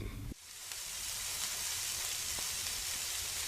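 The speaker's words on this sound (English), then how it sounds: "That's the sound of steaks on a grill." Filet mignon steaks sizzle on a grill with a steady, close, bright hiss that starts abruptly and holds evenly, with a few faint pops and no voices.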